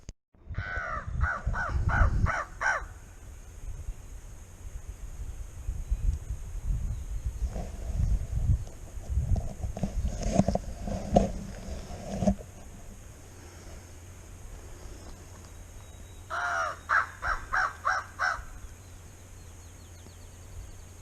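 Crows caw outdoors during a spring turkey hunt, a burst of several harsh calls at the start and another burst near the end, fairly close, over wind noise and rustling.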